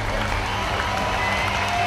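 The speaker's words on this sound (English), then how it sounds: "and the crowd erupts" A dense arena crowd roars and applauds after a strongman log lift, a loud, sustained wash of clapping and cheering heard up close, with commentary voices underneath.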